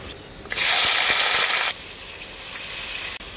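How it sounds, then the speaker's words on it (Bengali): Broccoli and flat beans hit hot leftover fish-frying oil with a loud, sudden hiss that holds for about a second, then settles into a steadier, softer sizzle, with no talking. "ওই মাছ ভাজা তেলের মধ্যেই আমি ব্রোকলি আর কাঠসিমটা ভেজে নেব।"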